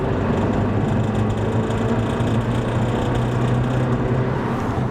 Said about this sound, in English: it almost sounds like engine knock